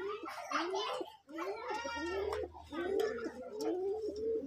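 Domestic pigeons in a loft coo close by, with repeated soft throaty rolling calls following one another and a voice faintly mixed in.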